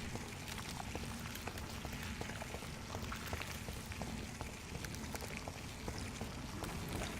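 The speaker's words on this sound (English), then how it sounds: "Why do I hear water?" Water trickles and bubbles steadily in the video game Vampyr, a faint, continuous wash with no talk.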